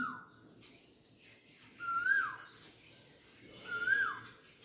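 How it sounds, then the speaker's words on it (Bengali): An Asian koel calls twice with rising, whistled notes, clear and fairly close, repeating after a pause over a quiet background. "দেখছো কিরকম কোকিল ডাকে আমাদের এখানে?"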